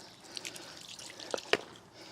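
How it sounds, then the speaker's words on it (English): Water running freely from an open garden hose with no nozzle onto a fresh concrete paver with exposed aggregate finish, heard as soft, faint splashing and dripping with a few brief splats, close by. "I've got no nozzle on my hose. The water's just flowing out."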